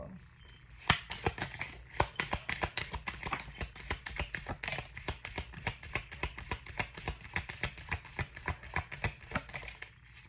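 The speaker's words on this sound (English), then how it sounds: "So here I am, I'm shuffling." Tarot cards being shuffled by hand in quick, rhythmic riffles and taps, close up, continuing steadily for several seconds.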